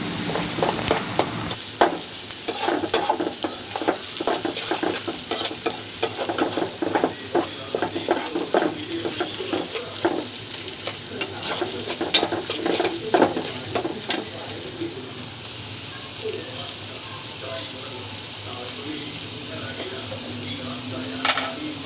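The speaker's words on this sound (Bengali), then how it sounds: "তেলের মধ্যে পেঁয়াজ দিয়ে ভালোভাবে নেড়েচেড়ে ভাজা ভাজা করে নিতে হবে" Onions fry in oil with a steady crackling sizzle, punctuated by frequent scrapes and clicks of stirring, close and continuous throughout.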